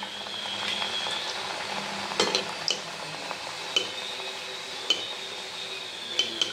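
Rajgira (amaranth flour) puris deep-fry in hot oil, a steady close sizzle and bubbling with occasional light clinks of a utensil against the pan.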